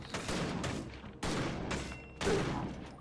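Three punchy shotgun special-attack blasts from the Victor Vran video game go off about a second apart, each loud and close with a brief rattling tail.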